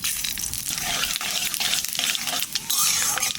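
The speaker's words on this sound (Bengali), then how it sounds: "তেলের পর দিয়ে দেবো 5 ফোড়ন আর শুকনো লঙ্কা।" Five-spice seeds and dried red chillies crackle and sizzle loudly in hot oil, with stirring and scraping in the pan, a continuous close, bright frying hiss with brief dips.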